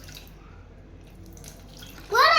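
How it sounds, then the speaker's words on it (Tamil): Water poured into a bowl of orange drink powder and sugar for homemade orange ice, a quiet room that ends in a short, loud splashing pour. "இப்போ நான் தண்ணி ஊத்தலாம்."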